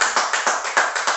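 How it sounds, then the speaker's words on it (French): An audience at an International Women's Day (8 March) event in Africa claps in a steady burst of roughly eight sharp, evenly spaced hand strikes, close and fairly loud, with no voices. "Tout le monde applaudit"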